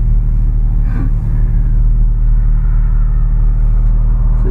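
A loud, steady low engine rumble from inside a moving Porsche 911 Targa 4S, continuous and droning without pauses.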